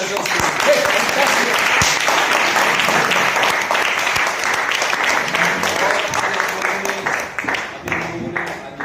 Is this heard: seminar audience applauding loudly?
yes